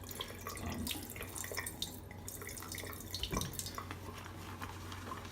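Water splashes and trickles into shaving lather in a bowl as it is worked in, a soft, continuous wet dribbling with small drips, fairly quiet and close, with no voice.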